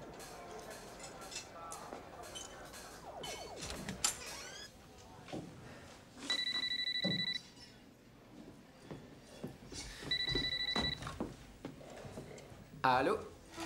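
A telephone rings twice with an electronic warble, each ring lasting about a second, amid voices, creaks and clattering.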